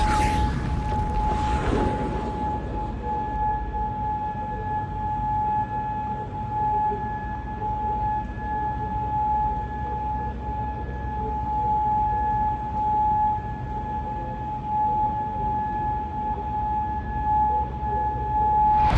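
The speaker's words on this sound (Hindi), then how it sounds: "सायरन बज रहा है।" A siren wails steadily in the distance in Kuwait for the whole stretch, its long tone holding over a rumbling, noisy background with no voices.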